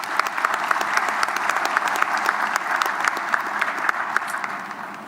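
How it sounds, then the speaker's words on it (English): A hall full of people applauds at a South African municipal election results event, steady dense clapping that holds evenly for several seconds before easing slightly at the end. "I think we should take a minute and give an applause."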